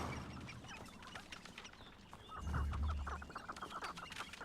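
Chickens cluck in a video game's forest area, a steady scatter of soft clucks and calls over a busy ambient bed, with one brief low thump partway through.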